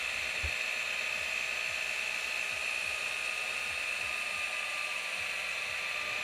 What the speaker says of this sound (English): the rotary isn't jumping around, it isn't skipping up and down, it's under control, and it's nice and smooth